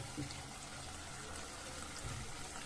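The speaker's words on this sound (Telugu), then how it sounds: "దీనిలో కొన్ని వాటర్ వేసుకోవాలి" Water is poured into a pan of chicken curry, a steady, dense pouring and splashing that runs unbroken from start to finish at moderate loudness, with no talking.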